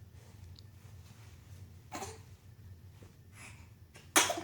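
A single sharp sneeze bursts out near the end, loud and close, after a quieter breathy sound earlier over low room hum.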